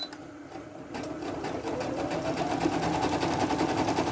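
A Singer Deluxe sewing machine runs a demonstration stitch, its motor whirring steadily and growing louder as the stitching speeds up, close and without talk.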